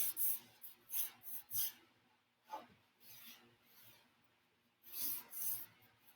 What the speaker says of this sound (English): So then I take my rag, rub it in